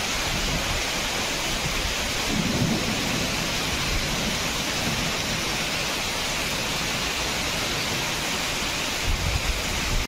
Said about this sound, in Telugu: కొత్తపేటలో ఉరుములు, మెరుపులు, భారీ ఈదురు గాలులతో కూడిన వాన పడుతోంది.